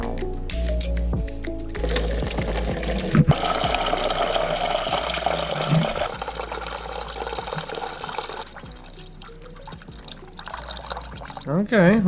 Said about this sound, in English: we wait for as much of that to drain as we can